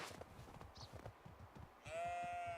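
Sheep bleat on a farm in the medieval survival game Medieval Dynasty. Short bleats repeat over soft game ambience, and one longer, drawn-out bleat comes near the end.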